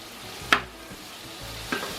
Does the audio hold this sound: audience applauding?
no